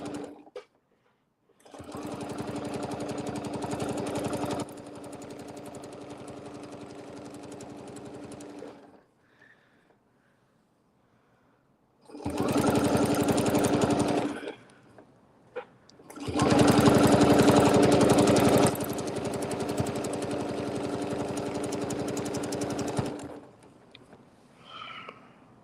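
A sewing machine stitches a quilting line in long continuous runs, with pauses between bursts of steady mechanical whirring and needle chatter, close and fairly loud.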